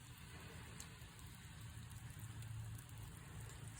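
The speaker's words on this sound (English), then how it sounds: "I hope you can hear the rain in the background." Steady rain falls outside an open window, a continuous soft hiss with low rumble running evenly throughout at a moderate, distant level, with no talking.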